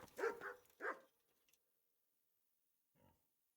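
Dog in the medieval game Kingdom Come barking two or three quick, close barks in a burst, followed by silence and one faint, short sound near the end.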